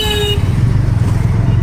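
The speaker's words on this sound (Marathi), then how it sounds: "आता इंदापूरची थोडीशी ट्रॅफिक लागली." Steady roar of highway traffic on the Mumbai–Goa highway near Indapur, with a car horn honking at the very start before the dense engine rumble carries on without a break.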